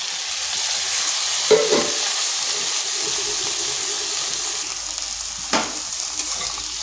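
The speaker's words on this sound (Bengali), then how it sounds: "শাকগুলো ভালোভাবে মিশিয়ে নিচ্ছি" Drumstick leaves and boiled potatoes fry in a pan with a steady, close hiss of sizzling oil, broken by two brief scraping stirs.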